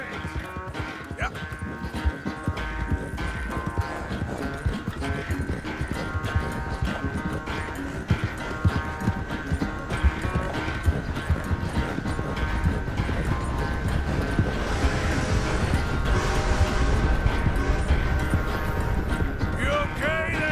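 Horse hooves clip-clop in a steady, brisk rhythm throughout a ride in Red Dead Redemption 2, close and continuous, with game music and ambience underneath.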